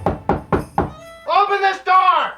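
Four heavy, evenly spaced knocks pound on a door, each a loud dull thud, followed by someone shouting.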